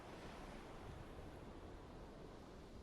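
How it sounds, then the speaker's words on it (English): Water lapping and washing against a submarine's hull and deck in the naval game UBOAT, a steady broadband surf-like wash with wind noise, continuous and fairly close, no voices. "Water lapping on her deck."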